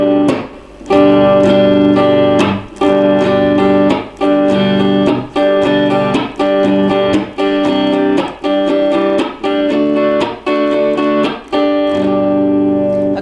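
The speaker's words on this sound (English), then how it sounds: "this strumming pattern is a downstroke, an upstroke, a chop" Acoustic guitar strumming a pattern: downstroke, upstroke, percussive chop, upstroke, repeated in a steady loud rhythm, each muted chop giving a sharp clipped break between bright ringing chords, no voice.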